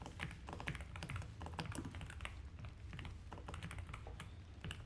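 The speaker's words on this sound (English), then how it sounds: "And then I could type this as well." Rapid, continuous typing on a computer keyboard, with dense, close keystrokes at an even, quick pace and no voices.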